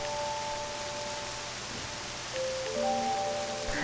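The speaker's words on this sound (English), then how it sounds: "Rain." Rain falls in the video game Octopath Traveler II over an empty village, a soft constant hiss with a few faint musical tones drifting through and no speech.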